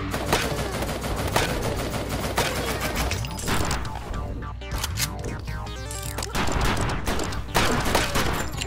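Bursts of rapid gunfire from a newly acquired gun in the game Trigger Witch, with dense, rattling shots and explosive effects. They run almost continuously and are loud and close.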